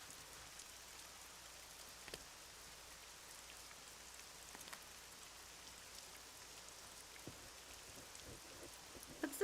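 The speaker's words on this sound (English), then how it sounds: "there's rain overlaid over the paper right now." Steady rain in the Nancy Drew: Legend of the Crystal Skull video game, a soft, even hiss that holds throughout at low level, with a few faint clicks near the end and no voices.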